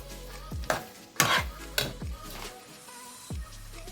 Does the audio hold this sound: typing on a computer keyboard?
no